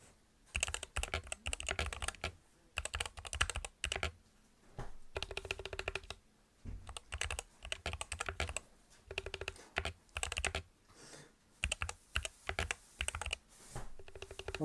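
Typing on a computer keyboard in a home, with bursts of quick key clicks separated by short pauses, close and fairly quiet.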